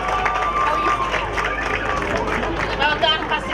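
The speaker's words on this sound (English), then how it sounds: "Can you give Cleo a big clap" A crowd at a Fiji Day 2012 celebration in Sydney claps for a tournament player, giving dense, steady applause mixed with a hubbub of voices and chatter throughout.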